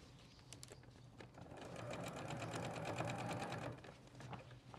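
Sewing machine stitches a hem through heavy duck cloth in a short whirring run that builds and holds steady with rapid needle clatter, fairly quiet and close, with no talking.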